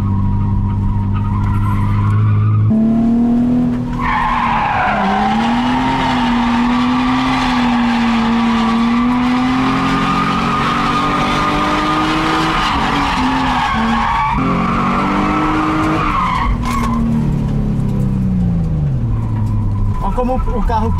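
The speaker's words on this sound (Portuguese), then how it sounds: "É pro carro escorregar mais fácil durante o drift." A drifting car with a welded differential runs a long, loud tire squeal over a revving engine, the pitch sliding up and down as the car holds the slide, with people talking over it.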